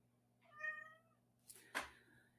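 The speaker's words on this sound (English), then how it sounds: "My cat is saying that this is very important for you guys." A pet cat meows indoors in two separate calls, a clear drawn-out tonal meow followed after a short pause by a sharper, louder cry, close to the microphone with no talk.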